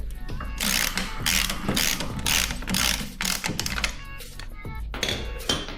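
A ratchet wrench loosens the idler wheel axle bolt on a 2017 Polaris Axys PRO-RMK 800 snowmobile, with loud close rapid clicking in several bursts separated by brief pauses.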